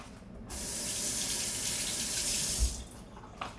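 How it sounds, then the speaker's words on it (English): Hands rinsed under a running kitchen tap, a steady close splash of water that starts abruptly, runs for a few seconds and cuts off, with a small knock near the end and no talking. "let me just rinse my hands off real fast"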